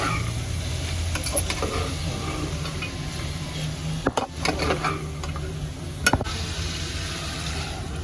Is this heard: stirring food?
yes